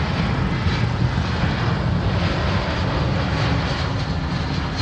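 An Airbus passenger jet at a busy airport, its engines giving a steady, loud broadband roar that holds evenly throughout.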